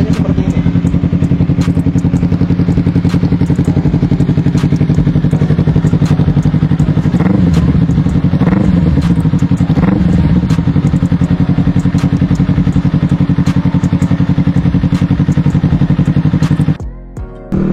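A Honda CBR motorcycle engine idles loudly and steadily up close, its low rumble and mechanical clatter holding constant before cutting off abruptly near the end.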